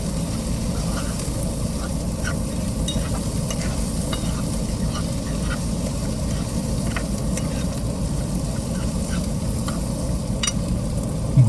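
Food sizzles loudly in a pan at a winter railroad camp while being stirred, with a constant frying hiss and scattered scraping and clinking of the stirring throughout.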